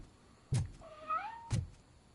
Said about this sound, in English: You're an interesting looking cat, aren't you?